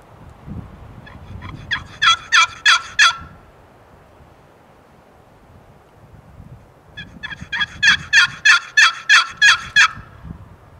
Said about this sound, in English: it wasn't just seconds later before we had heard a gobble to our right